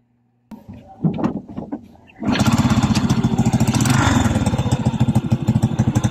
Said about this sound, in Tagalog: nakabit na ang tambutso at panlarin na natin.